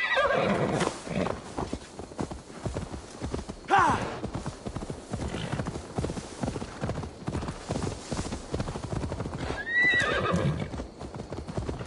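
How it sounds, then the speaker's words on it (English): A horse in the Assassin's Creed Valhalla video game, with steady clip-clopping hooves, a short whinny midway and another neigh near the end, under game ambience and some speech. "Now to deliver Magni his horse."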